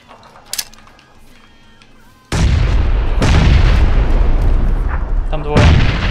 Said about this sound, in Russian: Вот где взрыв